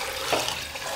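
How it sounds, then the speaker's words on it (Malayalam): Water pours into mixed rice in a pressure cooker, a brief, continuous splashing gush heard up close with no talking. "ഇനി ഇതിലോട്ട് നമുക്ക് വെള്ളം ഒഴിക്കാം."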